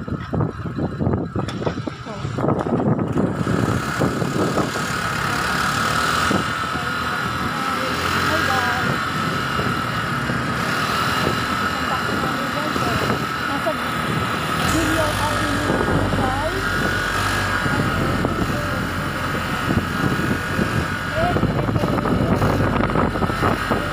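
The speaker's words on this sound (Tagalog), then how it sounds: "medyo matining pa yung makina ng ating Honda Click Special Edition 50th Anniversary kasi bagong-bago pa" Engine of a brand-new Honda Click Special Edition 50th Anniversary scooter running steadily on a long convoy ride, a continuous droning hum with wind rush, loud and close throughout, with a voice talking over it.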